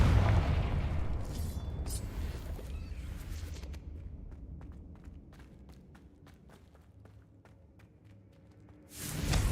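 In the Hogwarts Legacy game, a loud booming Confringo blasting spell explosion rumbles out at the start, fades into scattered crackles and footsteps, and a second heavy blast erupts at the very end.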